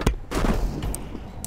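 Gunfire in the Counter-Strike video game, a few sharp shots in quick succession with broadband bursts close up, followed by a busy stretch of in-game noise.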